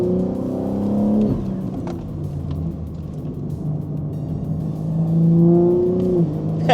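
A BMW G80 M3 with an equal-length exhaust accelerates hard from inside the cabin, the engine note climbing through gears with a brief lull between pulls, loud and close.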